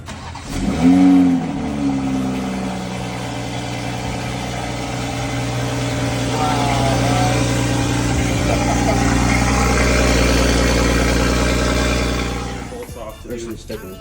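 A Toyota Supra engine starts for the first time after repair, catching with a crank and burst, then settling into a loud, steady idle that swells slightly before cutting off near the end, with voices over it.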